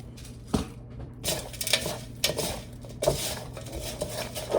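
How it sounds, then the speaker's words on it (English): Pea gravel is mixed into potting soil for transplanting Purple Passion cuttings, producing loose rattling and gritty scraping bursts in irregular pulses, close by with no talking. "And then I'm going to go ahead and mix a little bit of this pea gravel in."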